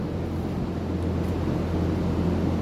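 A stationary engine fuelled with diesel and pig-manure biogas runs nearby, giving a constant low mechanical drone with a faint hum, steady and unbroken for under three seconds.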